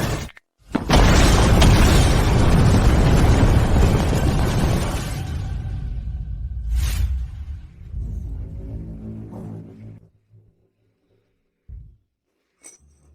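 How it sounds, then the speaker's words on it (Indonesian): A landmine set off by fireworks erupts in one huge, roaring explosion that rumbles and slowly dies away over several seconds, followed by a short thump and a faint pop. "Kembang api memicu ranjau sisa perang tahun lalu."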